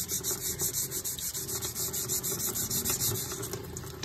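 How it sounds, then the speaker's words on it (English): Steady rhythmic rubbing of wet sanding on an antique rusty knife blade, close and fairly quiet, with a low hum running underneath. "This is referred to as wet sanding."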